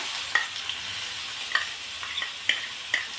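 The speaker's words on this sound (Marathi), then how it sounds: "इथे एक कांदा घेतला आहे मी, तो आपल्याला तेलामध्ये परतून घ्यायचा आहे" Finely chopped onion fries in hot oil with a steady close sizzle, punctuated by a few sharp spatula clicks against the pan as it is sautéed.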